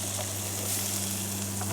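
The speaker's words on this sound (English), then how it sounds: "I am scrambling vegetables and soon to add eggs in bacon grease" Vegetables sizzle steadily in bacon grease in a pan at a campsite, a loud, close, continuous frying hiss over a low hum.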